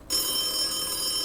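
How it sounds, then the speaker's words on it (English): A telephone bursts into a loud, continuous ring after a brief quiet moment, the bright trilling tone sustained to the end. "And then my phone rang."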